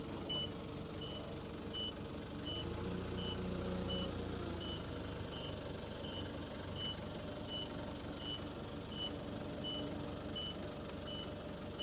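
A reversing forklift gives out a steady series of evenly spaced, high electronic beeps over a low engine rumble. The beeps are moderately loud and continue through the whole stretch.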